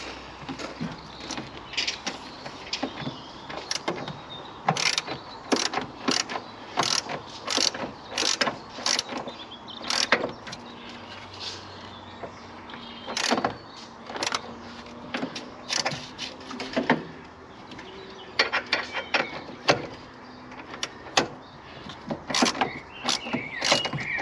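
A wrench works at a stubborn nut during a micro camper build, with a dense run of ratcheting clicks and metal scrapes in uneven bursts, close and fairly loud, with no voices.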